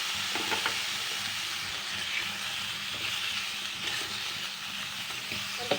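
Paneer cubes frying with masala in a pan, giving a steady, close sizzle that runs unbroken throughout, with a few faint stirring scrapes and no talk.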